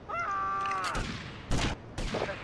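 Gunfire in GTA Vice City as two men are shot down, sharp bursts of shots landing in quick clusters over a tonal musical game sound, loud and close.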